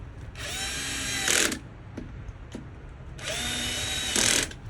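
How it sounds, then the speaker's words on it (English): A cordless power drill whirs twice while fastening plastic spa plumbing fittings, each run ending in a rattling clutch slip, with a couple of sharp clicks between, close and moderately loud. "y'all hear that? The drill slipping."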